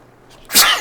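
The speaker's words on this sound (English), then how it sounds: "Sneeze, sorry." A single sharp human sneeze bursts out after a faint intake of breath, loud and close, in a quiet room during a Fallout 4 gaming session.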